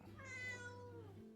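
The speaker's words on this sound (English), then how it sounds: "Oh my god, a cat on my lap." A cat sitting on someone's lap lets out a single drawn-out meow that rises and then falls, close and clear, with no talk over it.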